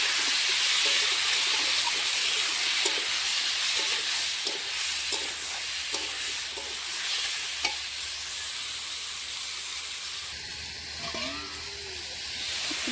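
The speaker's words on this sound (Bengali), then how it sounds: "ম্যারিনেট করা সয়াবিন আলু দিয়ে দেবো। এটা এখন ভালো করে কষিয়ে নেব।" Marinated soybean chunks and potato sizzle steadily in hot oil, a continuous bright hiss with scattered stirring scrapes and clinks, close and alone.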